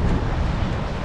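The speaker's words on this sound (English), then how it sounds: "really, really windy out there" Loud, blustery wind on Dale Hollow Lake buffets the microphone with a constant rough roar, with no talking.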